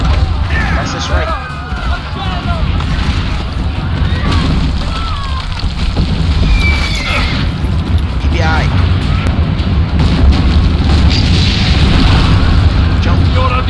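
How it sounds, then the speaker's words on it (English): Cannon fire in the video game Assassin's Creed Brotherhood: heavy booms and bursts over a dense, loud battle soundscape, with people talking throughout. "Use the cannons above the ramparts."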